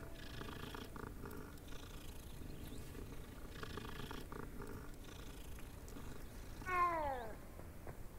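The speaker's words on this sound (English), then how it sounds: "Oh, it's a little cat." Small cat in the Transfiguration Courtyard of the game Hogwarts Legacy purring steadily under game ambience, with a brief meow-like rising call near the end.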